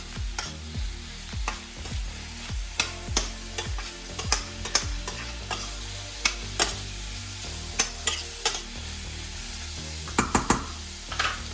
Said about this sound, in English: And I'm going to let this gently cook down.